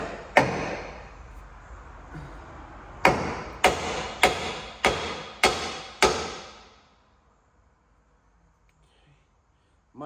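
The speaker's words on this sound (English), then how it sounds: "I do have a hammer. See if I give it a little persuasion." Six loud metallic hammer blows strike a truck axle bracket during axle removal, one early then five in a quick steady rhythm, each ringing briefly before the workshop falls quiet.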